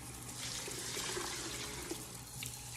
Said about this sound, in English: So we're gonna put 12 cups of water.